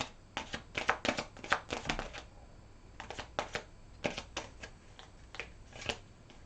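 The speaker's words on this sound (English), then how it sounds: "I need a few more cards for this reading." Tarot cards shuffled and drawn for a reading, close papery riffles and flicks coming in quick clustered bursts with short pauses between, no voice.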